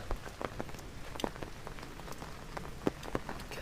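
Steady rain patters on Lugard Road atop Victoria Peak in Hong Kong, with scattered louder drops tapping close by over a constant wet hiss, and no voices.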